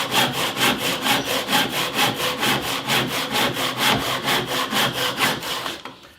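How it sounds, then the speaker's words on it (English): A handsaw cuts a miter through a piece of blackwood in a fast, even rhythm of about twenty loud, close strokes, stopping just before the end. "I've got a bit of black wood here now, and we'll cut a MITER on it"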